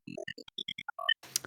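Resonant bandpass second filter on an Access Virus synth, heard as a brisk sequence of short, evenly spaced notes, then a brighter noisy burst at the end; close and solo.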